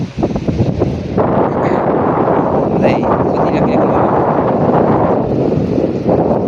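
Strong wind roars and buffets the microphone in a continuous loud rumble, with a voice faintly audible underneath.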